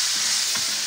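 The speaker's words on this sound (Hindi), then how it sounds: "चिकन भी यानी कि फ्राई हो रहा है घी में" Chicken fries in ghee with a short, even hiss and a couple of soft pops, heard close up.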